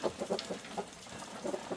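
Chickens in a backyard coop clucking softly in short scattered bursts while pecking at plums, faint and close.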